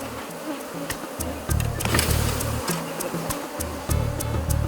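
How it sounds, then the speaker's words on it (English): Honey bees at a Langstroth beehive buzz in a dense, steady drone during a calm honey harvest, with the hum swelling and easing as the colony is disturbed, loud and close with no talking. "I'll shake the bees a bit,"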